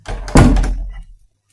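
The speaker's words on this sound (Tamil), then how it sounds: "அதில் கதவு சாத்திக்கிறேன்." A room door swings shut with a single solid thunk, close and fairly loud, followed by a brief settling rattle and then silence.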